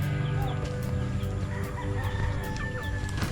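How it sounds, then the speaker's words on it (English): A dense, steady chorus of many chickens clucking close by at a rural home in Adlaon, Cebu City, Philippines, with a rooster's crow rising above the flock's chatter and no talking. "Look at all these chickens."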